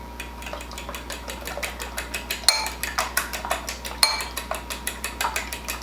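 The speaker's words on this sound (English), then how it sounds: "I'm just beating this with a fork a little bit" A fork beats muffin batter of oil, vanilla and other ingredients in a bowl, a steady run of quick, sharp clinks against the bowl in an even rhythm, close and fairly loud, with two harder strikes along the way.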